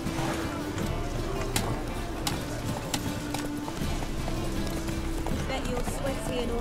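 Horse hooves clip-clop steadily at a gallop in The Witcher 3, a continuous rhythmic drumming under background game sound and a talking voice.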